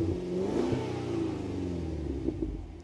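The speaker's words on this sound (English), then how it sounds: "You didn't think I could do a review even at night without revving it at least once." A 2023 Cadillac Escalade-V's V8 engine rumbles at idle and revs up sharply twice, roaring briefly each time before dropping back, loud and close, at night.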